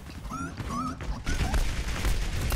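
Gunfire in the video game Overwatch, dense rapid shooting mixed with whistling, warbling tonal effects, loud and continuous, growing heavier and more cluttered toward the end.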